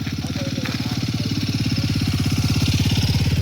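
A motorcycle climbs a snowy, glass-like icy mountain road, its engine chugging in a steady, rapid pulsing rhythm that stays close and loud throughout, with no talking over it.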